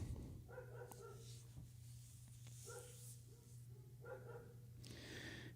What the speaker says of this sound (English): you could probably hear my neighbor's dog in the background